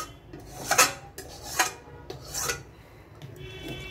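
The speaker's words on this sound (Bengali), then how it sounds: "একদম কড়াইটা কাচিয়ে ঠাচিয়ে আমি রেখে দিলাম।" A metal spatula scrapes around the inside of a kadai after cooking a small tangra fish dish, giving three or four loud rasping strokes in an uneven rhythm, each one close and distinct, with no talk.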